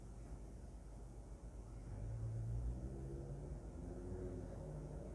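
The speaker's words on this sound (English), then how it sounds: "And a car outside my window." A car's engine rumbles past outside, swelling in the middle and fading again, distant and muffled.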